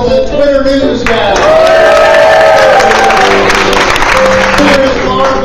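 A live audience claps and cheers loudly for a piano player at an event, with dense sustained applause, whoops and crowd shouting, while a voice talks over the noise throughout.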